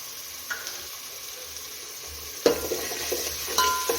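Green chili and ginger-garlic paste frying in a pan for masala rice, a steady soft sizzle with a few sharper stirring scrapes and clinks near the end.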